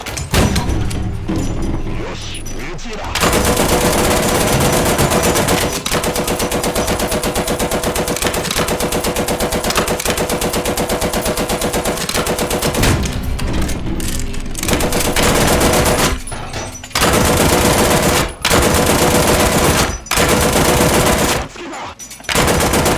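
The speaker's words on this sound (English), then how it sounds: "I'm using the machine gun as my ballistic computer" The machine gun of an M4 Sherman tank in War Thunder fires long, loud, continuous bursts of rapid gunfire, broken by a few short pauses and quick follow-up bursts.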